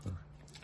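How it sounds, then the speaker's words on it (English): A happy dog gives a short whimpering whine close by, a brief tonal sound that fades into quiet room noise. "oh, the happy dog."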